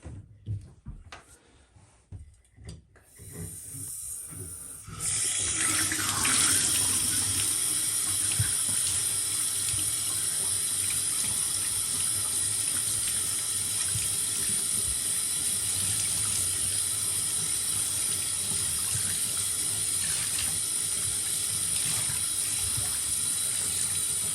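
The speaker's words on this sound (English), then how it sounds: "I like to start by rinsing off the air filter with some warm water" Steady running warm tap water splashes continuously over a K&N engine air filter for about twenty seconds after a few seconds of quieter handling noises, loud and close.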